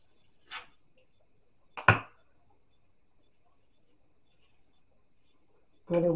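Scissors snip lace on a gray-silver lace wig in a few sharp, isolated cuts, spaced apart with quiet between them and a longer crunchy snip at the end.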